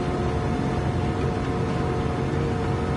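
A constant loud engine drone heard from inside a Shelby GT350R fitted with a Bugatti Chiron engine at the Nürburgring in Gran Turismo 7, dense and steady with a humming tone throughout, no voices.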